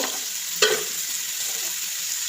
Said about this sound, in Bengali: এবার দিয়ে দেবো দেখো টমেটো বাটা দিয়ে দিলাম টমেটো পেস্ট